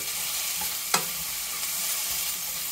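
A spicy stir fry cooks in a pan with chili oil, giving a soft, steady sizzle at low volume with one brief clink of a utensil partway through.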